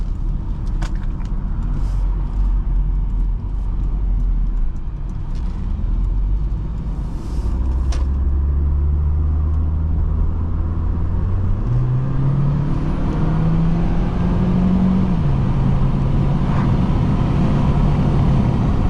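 A 2003 Volvo S40 1.9T drives along at speed, its turbo engine a loud, steady rumble with road noise, the engine tone rising and settling as the car accelerates and shifts, heard from inside the cabin.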